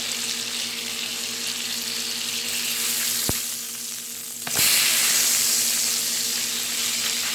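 A pork chop (chuleta) browns in a frying pan over low heat, a continuous close sizzle with a sharp click partway through, then a louder, brighter surge of frying; no voices.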